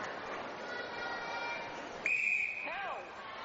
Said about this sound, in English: little stop-start passage here as whistle rules the match